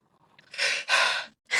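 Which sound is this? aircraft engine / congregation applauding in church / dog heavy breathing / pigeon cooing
dog heavy breathing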